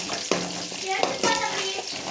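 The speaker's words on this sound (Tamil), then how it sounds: "வெங்காயம் பூண்டு சேர்த்துக்கலாம். அதை நல்லா வதக்கிக்கலாம்." Onion and garlic sizzle in a hot pan with popped mustard seeds for banana flower chutney, a close crackling fry broken by spoon stirs, with faint ringing tones over it.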